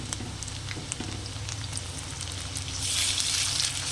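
Garlic ginger paste fries in oil with browned onions for a Bengali saur chingri dish, a steady crackling sizzle that grows louder and brighter near the end.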